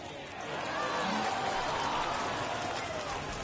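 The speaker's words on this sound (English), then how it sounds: "Really starting to pour now, and the forecast is not showing any signs of a break in the weather" Heavy rain pours steadily over a baseball stadium in MLB 21, a dense, continuous hiss that swells slightly and holds, with faint crowd murmur beneath.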